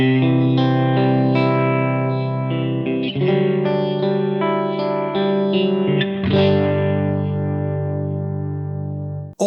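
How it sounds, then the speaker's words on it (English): An electric guitar runs through an All-Pedal Microdose Phaser pedal with the resonance turned up, playing sustained distorted chords with a sweeping, swirling phase effect, loud and close, with no talking. "as we increase it, again, we get more of that phaser effect going on"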